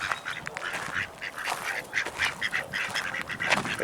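Ducks at a lake quack loudly and repeatedly in a close, lively chorus without speech.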